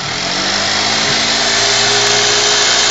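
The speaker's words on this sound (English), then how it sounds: "It's 24 volts, forklift motor." A 24-volt electric forklift motor running in neutral on a homemade electric car, giving a loud, steady, high-pitched whine and hum that holds constant throughout.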